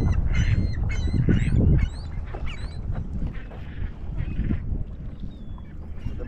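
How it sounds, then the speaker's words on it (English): Ducks at Lake Mead, including a green-headed male, squawk and quack in a lively cluster of close calls during the first two seconds, then call more sparsely over a steady outdoor background with no talk. "Beautiful duck."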